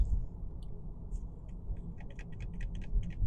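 A control inside a 2025 Honda Accord Sport Hybrid is clicked repeatedly, faint crisp ticks growing into a quick, rapid series over a low cabin rumble.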